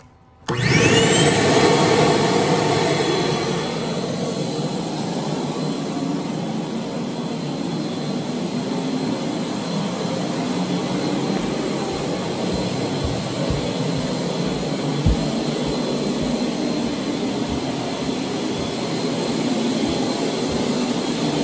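Vacuum roaring steadily through 75 feet of 1.5-inch hose, switching on abruptly and holding a loud, constant whine with a broad hissing rush throughout, with no talking.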